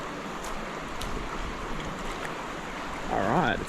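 Cold, fast-flowing water of the Cann River rushes in a steady broad wash close by, and a voice cuts in briefly near the end.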